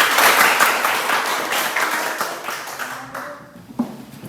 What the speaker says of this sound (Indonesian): Oke, tepuk tangan buat Ibu.